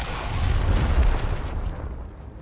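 A grenade detonates in the tactical game Gears Tactics, one loud close blast that rolls off into a rumbling decay over a couple of seconds.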